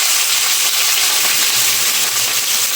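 Onions and green chilies hit the oil beside frying katla fish, giving a loud, dense, unbroken sizzle that holds at full strength throughout, close up with no voices.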